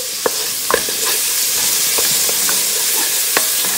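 Garlic and onions frying in a pan, a loud continuous hiss of sizzling oil close by, with a few sharp spatula scrapes and taps spread through it.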